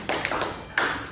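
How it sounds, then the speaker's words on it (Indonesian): Brief applause for a student group in a classroom, a few sharp claps in two short bursts, close and fairly loud, with no talk over it. "aplaus dulu untuk kelompok"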